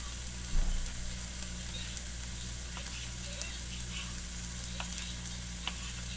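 A home-cooked dish for lunch frying in a pan, a low steady sizzle with occasional faint ticks and pops, and one brief clatter near the start; no talking.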